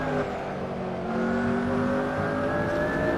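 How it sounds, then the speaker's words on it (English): A race car engine during a hot lap on track drones steadily from on board, pitch slowly rising as it pulls through the gear, loud and continuous with no talking. "just let you listen to the engine through there"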